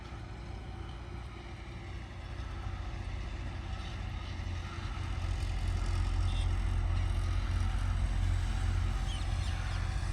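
A Deutz-Fahr tractor works a potato field with its engine rumbling steadily and loud, a deep continuous drone that swells a little as the tractor turns, with no talk.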